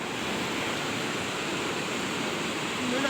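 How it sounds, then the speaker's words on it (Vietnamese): Heavy rain pours in a dense, continuous roar, loud and close, with no breaks throughout. "Từ đầu năm đến giờ là trận này là mưa to nhất đấy nhỉ."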